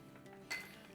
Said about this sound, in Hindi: तो ये तोड़ेंगे हम अंडा डायरेक्ट इसमें।